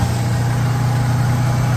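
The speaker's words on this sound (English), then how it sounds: "Okay, I got her to start up again. I think it's a timing issue. I'm gonna let her run and warm up." A Ford Bronco engine, under restoration with a suspected timing issue, idles steadily after being restarted, a loud, continuous low rumble with an even, unbroken drone and no talking.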